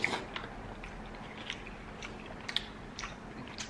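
Someone chewing and eating fish and fry bread, soft crunchy bites and mouth sounds at close range, with a few sharper crisp bites spaced over a quiet background.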